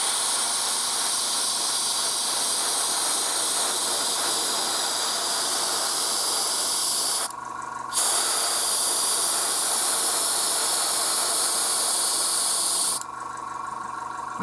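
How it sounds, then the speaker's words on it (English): An airbrush sprays paint onto a model piece in a steady, close, loud hiss, cutting off briefly twice as the trigger is released before resuming. "airbrush really does speed this process up"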